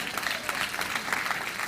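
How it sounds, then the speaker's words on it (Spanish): Brief, fairly quiet applause from a church congregation, a dense patter of clapping that holds steady throughout. "denle un aplauso al Señor por ella"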